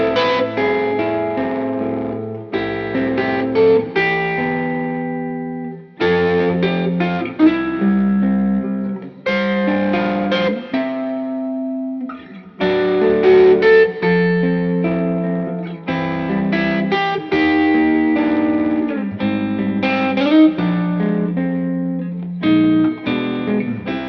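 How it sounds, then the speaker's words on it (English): An electric guitar played through an OBNE Screen Violence distortion pedal rings out in chords and melodic phrases with a saturated, effect-laden tone, steady and up front with no talking. "you can play stuff you would normally never be able to send into a distortion pedal, and it'll just"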